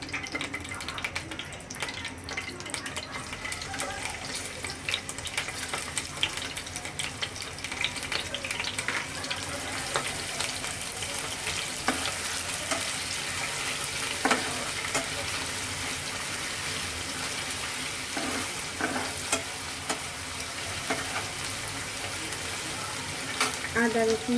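Chopped onions fry in a pan for bhuna khichuri with a loud, continuous sizzle, broken by frequent scraping stirs and a few clatters, close and steady throughout.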